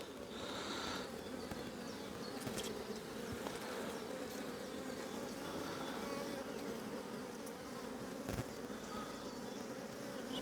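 Honey bees buzz steadily and close during a hive inspection as frames are checked, a dense continuous drone with a few louder individual passes near the end.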